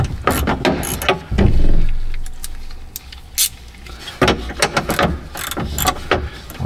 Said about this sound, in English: where's our ratchet? This little baby ratchet